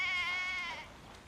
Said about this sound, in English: He's bringing his sheep back from the pasture.